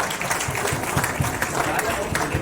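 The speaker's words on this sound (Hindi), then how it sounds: "एक बार जोरदार ताली हो जाए सर के लिए।" An audience claps together at a felicitation for a union general secretary, a dense, even burst of applause lasting a couple of seconds in a hall.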